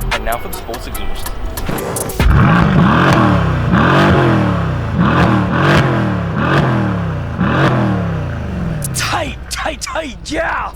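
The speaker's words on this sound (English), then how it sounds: "Now for the sports exhaust." A Mercedes-AMG C63 S in sports exhaust mode gives a long run of quick, loud throttle blips close by, each one a rising bark that drops away, ending in a few sharp pops.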